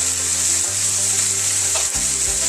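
Sitaw (string beans) sizzling and frying in a pan for Filipino ginisang sitaw, a steady bright hiss with low stirring thumps; no one speaks.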